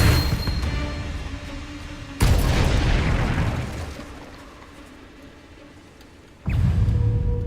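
Confringo blasting spell in Hogwarts Legacy, with two sharp, loud explosive bursts a few seconds apart, each one breaking into a roaring blast that slowly fades.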